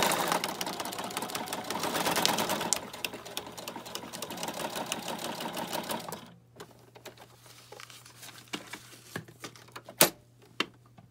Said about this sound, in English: I'm just going to do a straight stitch. Just do a back stitch at the beginning.